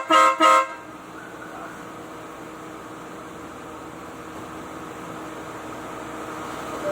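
Two quick, loud toots from MARCO horns on a Mitsubishi Xpander Cross with a Stingray harness, close together at the start, then a long stretch of low steady background hum.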